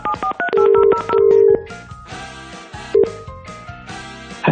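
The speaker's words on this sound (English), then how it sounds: "OK, let's dial the first number." A telephone number is dialed as a quick run of loud touch-tone beeps, several held longer than others, followed by a few scattered tones later on.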